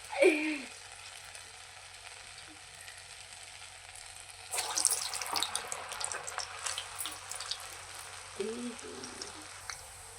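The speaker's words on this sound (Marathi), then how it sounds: "आता आपला हा दुसरा जो घाणा टाकलेला असतो तेव्हा तेलाचं तापमान जास्त असतं" A second batch of medu vada, the South Indian lentil fritters, fries in very hot oil in a kadhai with a loud, bubbling sizzle. Brief quieter stretches are broken by bursts of crackle and spatter.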